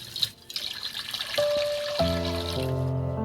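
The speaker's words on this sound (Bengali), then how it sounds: "এর মধ্যে আমি দিয়ে দেবো একদম কলের নর্মাল জল" Normal tap water running into a cooking pot, first a faint trickle and then a steady, louder stream filling the pot up close, with no talking.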